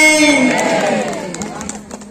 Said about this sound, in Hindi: जोरदार एक बात ताली के साथ माता रानी की जयकारा करो